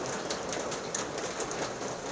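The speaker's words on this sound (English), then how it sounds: "let's wait for this rain to let up" Steady rain falling outdoors during repair work on a John Deere LA135 lawn tractor, a dense even hiss with scattered sharper patters throughout, fairly close and continuous, with no voices.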